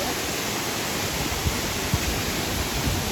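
The Kothapalli waterfall pours in a constant, dense roar of rushing water that fills the air evenly, with a few faint nearby knocks and thumps over it.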